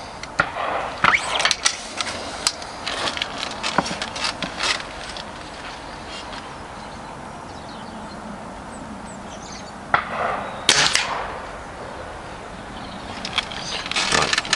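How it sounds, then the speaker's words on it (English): Weihrauch HW77K air rifle firing pellets at a five-penny coin target during a hunter field target challenge: a series of sharp, close cracks with short gaps between them, broken by a quieter stretch before the last shots. "Okay, so 5 shots aiming at the 5-penny piece."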